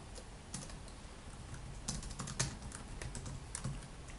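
Code is typed on a computer keyboard in steady, uneven bursts of soft close key clicks over a faint background, with no talking.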